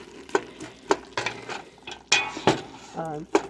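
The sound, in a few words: stirring chili in a pot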